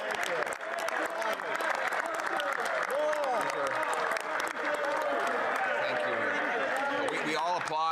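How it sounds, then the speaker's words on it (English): Sustained applause fills the House of Commons, a dense, steady wash of many hands clapping at once, with voices calling out through it. "We all applaud the NDP leader."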